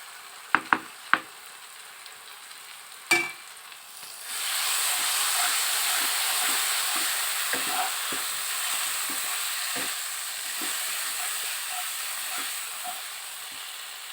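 Cashew and fried-onion paste for chicken chaap hits a hot pan after a few clinks, bursting into a loud, steady sizzling hiss with scattered spatula scrapes.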